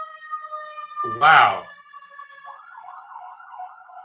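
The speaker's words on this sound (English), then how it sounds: "There's like 4 or 5 sirens over the last minute and a half." Several police sirens wailing outside in a city, a steady rising and falling tone running through the clip, briefly masked by a loud burst, while a man reacts in speech.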